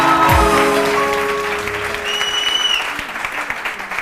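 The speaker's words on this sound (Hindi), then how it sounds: "अपने लिए एक बार फिर तालियां बजाओ।" Studio audience applauding at a Hindi-language TV One morning show, a steady dense wash of clapping that holds throughout while a voice talks briefly over it near the start.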